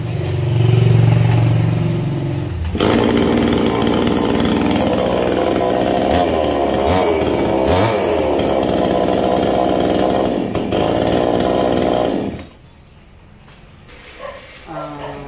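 A chainsaw with a 22-inch bar roars loudly and steadily for about ten seconds, revving slightly, then cuts off abruptly, leaving quieter background noise.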